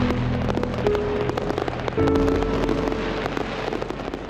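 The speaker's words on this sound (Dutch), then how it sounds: "En dan knalt hij het vuurwerk op een fantastische manier." Fireworks go off during a Cambuur football club championship celebration: a dense, continuous crackle of pops and bursts with low rumbling underneath. No one speaks.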